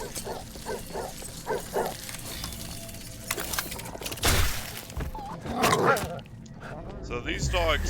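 Hostile dogs in the video game Asterigos, dogs that explode on death, give a run of short yapping barks, then a sharp shattering crash and more scuffling game sounds, with a voice talking over parts of it.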